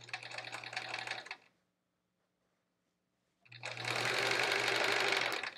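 A sewing machine stitches a Triangle Tango quilt in two close, rapid mechanical runs, a short burst and then a longer steady one, separated by a couple of seconds of silence.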